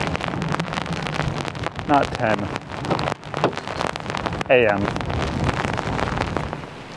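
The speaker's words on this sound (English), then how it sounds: "hiding it out in the car here for this rain to pass" Rain and gusting wind battering a parked car, heard from inside the cabin as a steady broadband wash with louder gusts, while a person talks throughout.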